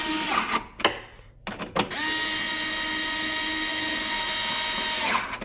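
A power tool whirs as 10mm bolts are tightened on a passenger-side tab during a car part install, with short bursts at first and then one long, steady high-pitched run, close by.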